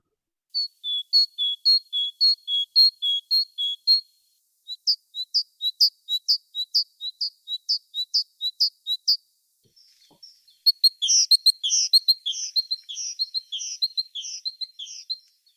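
A tit sings repeated high, bright chirping phrases in three bursts, clear and close with silence between.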